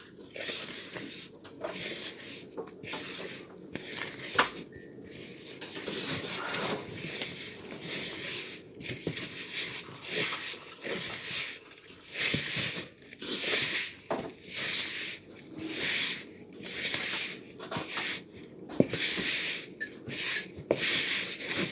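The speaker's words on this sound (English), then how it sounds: "with a wooden spoon, you need to stir it until you have a fairly wet dough" A wooden spoon stirs wet pizza dough in a bowl, giving repeated soft rubbing, scraping strokes in a steady rhythm, close and fairly quiet, with no talking.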